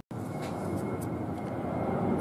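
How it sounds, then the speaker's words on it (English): An airplane flies overhead at night, a steady broad engine drone that stays even and moderately loud for the whole stretch with no talking. "Alright, I hear an airplane."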